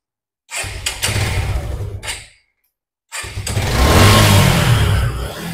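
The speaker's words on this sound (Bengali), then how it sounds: "এবার একটু আপনাদের এখন সাউন্ড কন্ডিশন, ইঞ্জিনের সাউন্ড কন্ডিশন যদি আপনাদের শোনাই" A motorcycle engine idles with a low, throbbing rumble and cuts out to silence. It then starts again and revs up into a louder, sustained roar close by.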